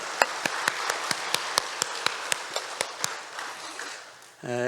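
A Korean church congregation at Sunday worship claps together in a steady unison rhythm, about a dozen sharp, evenly spaced beats that soften toward the end before a voice begins speaking.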